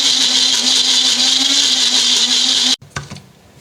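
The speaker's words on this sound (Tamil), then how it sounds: "கொஞ்சம் தயிர் சேர்த்து அரைக்கலாம்." A mixer grinder blends karpooravalli leaves with curd, making a loud steady high-pitched whir with a low motor hum that runs for nearly three seconds, then cuts off abruptly and leaves a few faint rattles and clatters as the jar settles.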